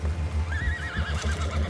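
A horse in Red Dead Redemption 2 gives a single clear, wavering neigh mid-clip, set over a steady low rumble and soft hoof clops, with no talking.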